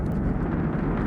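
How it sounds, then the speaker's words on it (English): Deep, dense roar of a SpaceX Falcon 9 rocket lifting off with the TESS spacecraft, a loud continuous rumble with no break. "The SpaceX Falcon 9 carrying TESS, a planet-hunting spacecraft that will search for new worlds beyond our solar system."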